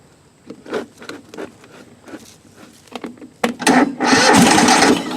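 A battery-started Husqvarna lawn mower engine cranks in several short, uneven bursts, then catches and settles into a loud, steady running roar close by.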